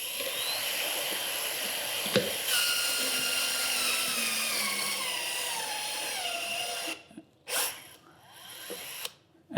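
A HYTORC torque gun tightens a fastener with a loud, sustained high-pitched whine that runs for about seven seconds. It then cuts off into a few short bursts and clicks.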